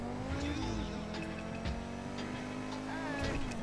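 Car collision in GTA V Online on PC, a game vehicle slamming into the player's car amid continuous engine roar and brief tire noise, loud and close with game music underneath.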